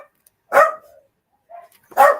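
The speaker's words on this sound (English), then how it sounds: "Sorry about the dogs, guys." Dogs bark indoors in a home workspace: two loud, sharp barks about a second and a half apart, with a faint whimper between them and silence around them.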